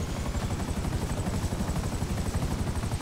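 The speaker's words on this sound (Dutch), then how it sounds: "Een helikopter kan alles." A Buzzard helicopter in GTA 5 Online flies close by, its rotor producing a steady, loud, rhythmic chopping thrum with a dense broadband roar, continuous and unbroken throughout with no voices.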